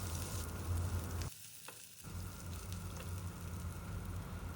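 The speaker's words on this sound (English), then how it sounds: "on medium flame we will saute the onions till they turn" Sliced onions sauté over a medium flame with an even, fairly quiet sizzle that drops away briefly for a moment before returning steadily.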